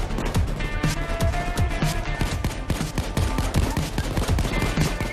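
Rapid gunfire in Payday 2 during a slaughterhouse heist, a steady barrage of sharp overlapping shots crackling throughout, loud and continuous with no talk over it.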